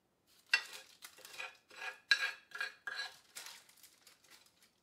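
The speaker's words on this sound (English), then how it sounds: "I'm going to spoon that as equally as I can between the two jars as well" Vanilla bean caviar spooned into two glass jars, a series of light clinks and scrapes of a spoon against glass in uneven taps, close and fairly quiet, with no talking.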